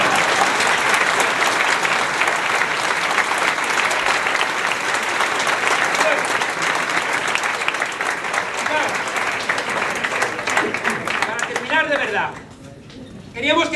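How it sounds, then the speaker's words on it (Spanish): Sustained applause from an audience at a Podemos political rally in Spain, loud and dense for about twelve seconds before it fades sharply and briefly returns near the end. "Aplaudid para que yo respire."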